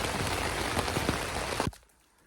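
Steady light rain patters and drizzles on a fog-bound campsite along the Appalachian Trail, a dense continuous hiss that cuts off abruptly near the end, leaving near quiet.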